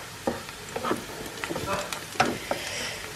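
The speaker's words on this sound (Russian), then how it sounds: "пока я тут жарю, шкварю, и это Вика уже блины жарит" Blini fry and sizzle in a home kitchen pan, with soft intermittent crackles and light scraping or stirring sounds, fairly quiet and close.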